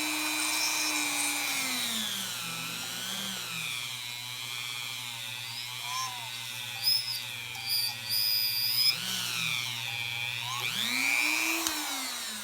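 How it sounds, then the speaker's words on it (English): A Dremel rotary tool drills a 1 mm hole, its high whine rising and falling in pitch as the load changes, steady and close, with no talk. "a 1mm hole drill with a Dremel tool"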